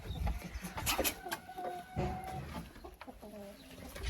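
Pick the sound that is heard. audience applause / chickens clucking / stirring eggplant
chickens clucking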